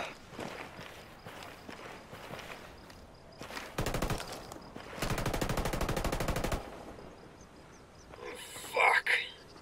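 Gunfire in Ghost Recon Wildlands during a PvP match at a lumber mill, with bursts of rapid automatic shots at full strength between scattered footsteps and quieter movement, plus a brief louder crack near the end.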